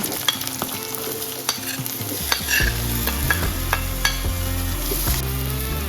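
Radish and potato pieces stir-fried in a pan with garlic, a steady loud sizzle with repeated scraping stirs and clinks of the spatula, no voices.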